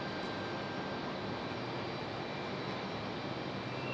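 A JetBlue Embraer E190 airliner on a stormy day at Raleigh-Durham airport gives off a continuous broadband jet roar, steady and fairly distant, with no voices over it.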